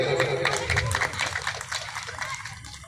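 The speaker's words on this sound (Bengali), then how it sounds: "উপস্থিত সকলকে অনুরোধ করব ওর এই ভাবনাকে সম্মান জানার জন্য একটি করতালি দেবেন" An audience at a club ceremony for a Shyama Puja golden jubilee gives steady, dense applause that holds at a moderate level and slowly eases off.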